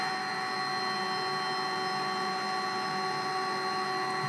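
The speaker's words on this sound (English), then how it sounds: "now we can see this is doing the 30 millimeter retract" A Lulzbot Mini 3D printer's extruder motor performs a slow 30 mm filament retract, giving a steady, faint mechanical whine with a constant tone.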